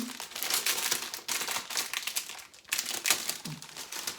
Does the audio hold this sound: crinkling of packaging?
yes